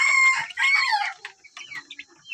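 Baby chicks (day-old chicks) chirp in a dense, overlapping chorus of high, bright peeps. The sound is loud and close at first, then thins to scattered, quieter calls.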